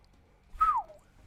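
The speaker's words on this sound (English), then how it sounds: "that whistle came out way louder than I expected" A single short whistle from a person, loud and near, a clear falling tone lasting under half a second against a quiet room.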